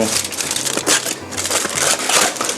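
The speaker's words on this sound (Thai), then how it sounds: "ผมจะใช้แผ่นฟอยล์ นะครับปูเพื่อความ สะดวกรวดเร็ว ฉีกชิ้นประมาณ" Aluminium foil torn from a roll to line an egg tart tin, a dense, close crinkling and crushing texture that runs loud and continuous throughout, with brief swells of rustle and no talk.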